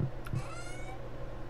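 A cat meows once when petted in the farming video game Stardew Valley, a short, soft game sound effect over a low steady background hum.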